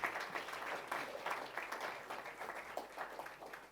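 Audience applause at a high-level business breakfast, a steady spread of clapping that fills the whole stretch at moderate loudness from a room full of people.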